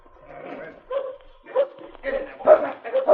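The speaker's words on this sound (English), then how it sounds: "That's the most savage dog in your team." A sled dog barks and yips in a series of short, loud, close bursts that build over about three seconds, with voices talking at the same time.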